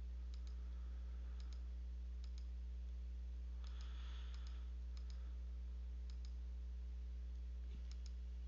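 Crisp mouse clicks sound in short pairs and small bursts, spaced a second or so apart, over a quiet steady electrical hum while row height is adjusted in a Zoho Writer document.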